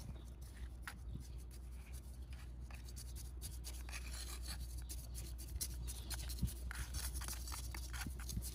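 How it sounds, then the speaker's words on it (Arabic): Hands pressing and rubbing soil around a newly planted aloe vera, a soft continuous gritty scraping and rustling, close and faint, with a few small taps and no talk. "ثم نضغط التربة حول النبتة"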